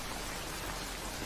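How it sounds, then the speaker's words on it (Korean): A sudden rain shower at a small harbor in an animated Korean folktale, heard as a faint, even, continuous hiss of falling rain with no other sounds. "갑자기 소나기가 쏟아지기 시작했다"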